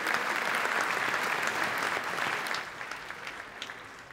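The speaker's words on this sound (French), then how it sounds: "que je vous demande d'applaudir également" An audience at the 2017 Trophées Francophones du Cinéma awards ceremony claps in a dense, loud burst that holds steady and then thins out and fades toward the end.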